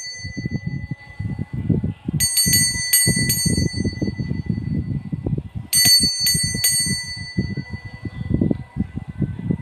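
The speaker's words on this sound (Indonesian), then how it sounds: "tanda lonceng berbunyi" A small bright bell rings in two quick bursts of a few strikes each, clear and ringing over a steady background of shuffling and handling noise.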